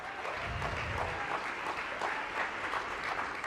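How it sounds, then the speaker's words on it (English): A conference audience applauds the session moderator at an event on disability rights in foreign policy, a steady, dense patter of many hands clapping throughout, with no talking over it. "A huge round of applause for Robert."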